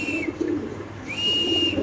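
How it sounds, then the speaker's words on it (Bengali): A pair of Rajshahi Giribaz pigeons gives short, thin whistling calls and soft low murmurs close by, with no talk. "খুব সুন্দর এক জোড়া রাজশাহী গিরিবাজ কবুতর"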